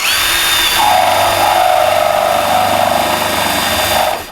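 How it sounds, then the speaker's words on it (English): A power drill fitted with a 1/2-inch bit boring a hole during a BirdSlide installation, a loud, close, steady motor whine sustained for about four seconds before spinning down. "it's recommended that we drill in some holes using our 1/2-inch drill bit"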